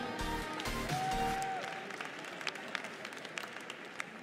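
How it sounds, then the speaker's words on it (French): Spectators at a 2020 Rouge des prés cattle show applaud the contest winners. After a brief electronic tone and some low thumps at the start, scattered, fairly distant clapping settles into a soft, continuous patter. "Je vais vous demander de les applaudir bien fort,"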